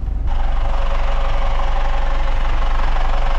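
A boat's engine idles loud and steady in the engine bay, a continuous low rumble with a faint rhythmic knock, heard up close.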